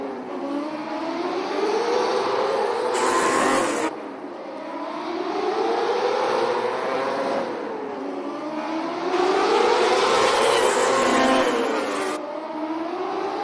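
Dirt track race cars on a qualifying lap at the PPL Center in Allentown, Pennsylvania, engines revving up and down in repeating swells as they circle the indoor track, loud and continuous.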